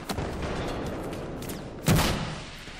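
Battlefield 4 gunfire during a Conquest match on the Hammerhead map: scattered distant shots, then one heavier close blast near the end over constant battlefield noise.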